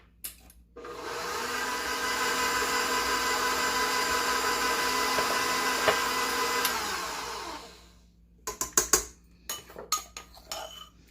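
A stand mixer with a dough hook churns stromboli dough in a loud, steady motor whir lasting several seconds, then winds down and stops, followed by a scatter of close clinks and knocks of the bowl and utensils.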